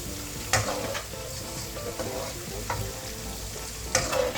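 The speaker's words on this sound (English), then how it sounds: "So you stir it, you can off your fire, and then it's done." A sweet and sour fish dish sizzles steadily in a pan while a spatula stirs it, adding occasional sharp scrapes and clanks. The sound is close and continuous, with no talking.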